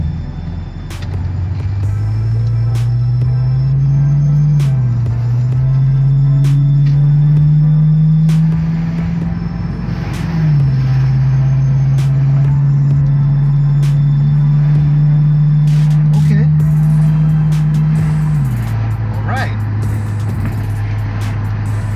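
A BMW E38 with its muffler deleted drives past with the windows down. A steady, loud low exhaust drone rises and falls with the throttle, with no talk over it.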